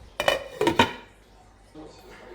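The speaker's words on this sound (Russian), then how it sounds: "Давайте накроем крышкой" A metal lid set onto a pot of simmering broth for aspic made without gelatin: three quick, close clanks of metal on metal in a row, followed by a faint bubbling hum.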